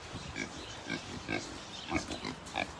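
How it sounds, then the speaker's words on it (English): Kunekune pigs on a farm give soft, low grunts and snuffles in a steady run of short bursts, fairly quiet and close, with no talk over them. "right here we do have our Kuni pigs"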